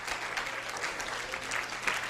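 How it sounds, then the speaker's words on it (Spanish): Church congregation applauding during a Spanish-language sermon on Jesus' words on the cross; steady, moderately distant clapping from many people with a faint low hum beneath, continuing without pause. "dele un aplauso al Señor."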